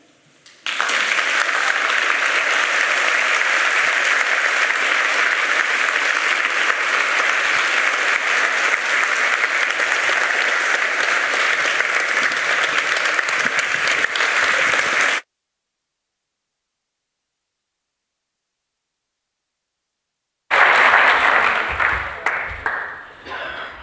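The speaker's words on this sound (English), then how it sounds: "I'm not sure I deserve that applause" Audience in a university lecture hall applauds after a lecture on data capture and visualisation, a loud, dense, steady clapping that lasts about fifteen seconds, stops into silence, then brief clapping returns with a voice starting to speak.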